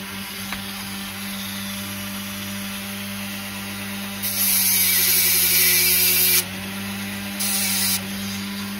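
A cut plastic part from an Autoworld 4 Gear model slot car being deburred with a tool, giving two bursts of loud buzzing, scraping grind, a long one then a short one, over a low steady hum.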